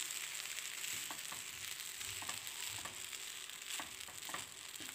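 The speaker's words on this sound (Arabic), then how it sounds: "هقلبهم بقى كلهم كده مع بعض بالراحه كده علشان ما يعجنش" Chicken livers and gizzards sizzle and fry in a pan while being stirred, a steady close crackle broken by soft scraping stirs, with no talking.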